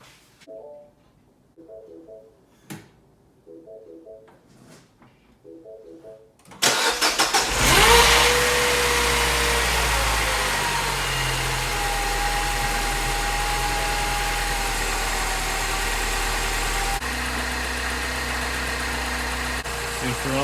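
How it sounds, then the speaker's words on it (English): A Mini Cooper S R56 bought from a salvage auction cranks and fires, then settles into a steady, loud idle that lasts about thirteen seconds. A few quiet taps and clicks come first, and there is no talking. "Let's get the car started."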